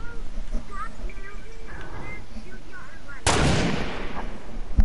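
Video game gunfire cracks out in a sharp, loud single blast late in the clip, following a stretch of game ambience and beeping tones while a voice talks over it.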